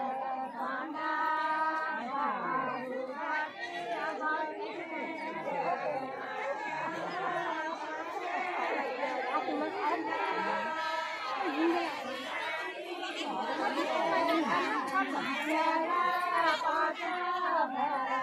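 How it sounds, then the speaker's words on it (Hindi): A dense crowd at a village fair in India chatters continuously, many overlapping voices near and far, with occasional louder calls rising from the steady hubbub. "और भीड़ देख सकते हैं गाइस धीरे धीरे बढ़ती हुई"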